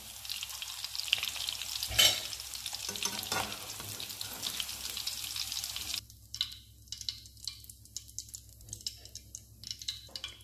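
Steady crackling sizzle of meatballs frying in hot oil, with occasional clinks and stirring, then the sizzle quiets to scattered pops and spits.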